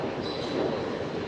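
Metro train at Dante subway station in Naples, a steady continuous rumble of the train with a faint high whine, loud and close with no talk.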